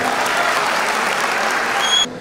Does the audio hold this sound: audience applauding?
yes